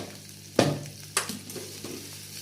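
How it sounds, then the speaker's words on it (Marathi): Potato and green chili being sautéed in a pan for sabudana kechade, giving a low steady sizzle with two sharp scrapes of a spoon stirring against the pan, then softer scraping. "त्याला छान असं परतून घ्यायचं 5 मिनटं."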